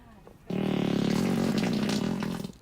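A loud, wet, buzzy fart sound from a public farting prank rips continuously for about two seconds, close and sputtering, with faint voices around it.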